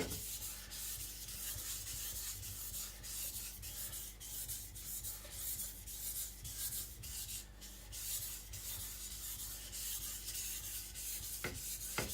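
An IKEA Chinese cleaver rasps back and forth across a whetstone in continuous close, rhythmic strokes, steady and unbroken for the whole stretch.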